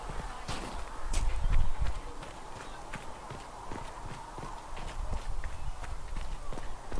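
Horse hooves clip-clop in the Dragon Age Inquisition video game, a steady rhythmic trot of close hoofbeats with brief louder thuds early on, and a voice talking over them.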